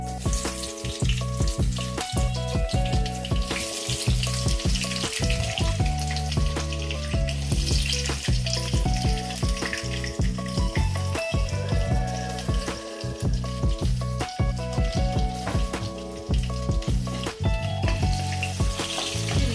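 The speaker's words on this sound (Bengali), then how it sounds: "এবারে আমি এর মধ্যে পেঁয়াজগুলোকে ছেড়ে দিচ্ছি।" Sliced onions frying in hot oil for a Bengali country chicken curry (kosha mangsho), a loud continuous sizzle and crackle close up, with occasional utensil knocks and no talking.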